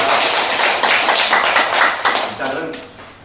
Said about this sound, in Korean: 박수 쳐주십시오.